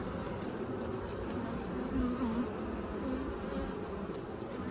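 A dense, steady drone of many honey bees buzzing close by at a hive, a continuous swarm hum with no voices.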